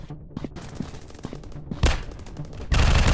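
Gunfire in a PUBG-style counter-terrorist shooter game: scattered sharp shots across the first seconds, then a loud dense burst near the end, with no talk over it.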